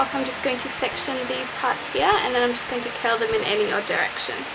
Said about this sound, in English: Sorry if you can hear my fan in the background